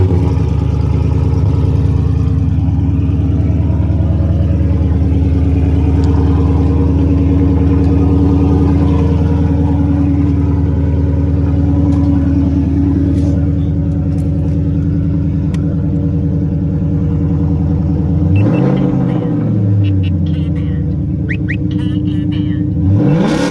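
A 2018 Ford Mustang GT with both mufflers removed runs loud and close, its V8 exhaust droning at a steady idle-to-mid rumble, then briefly revving up and settling near the end.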